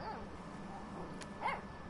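A dog in the video game Life is Strange 2 gives two short, faint yips or barks, one at the start and one near the end, over a steady background hum.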